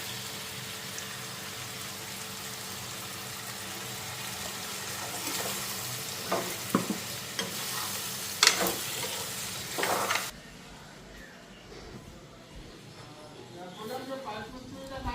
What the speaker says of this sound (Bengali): এখন মশলাটা হয়ে গেছে, মশলাটা দিয়ে দিই।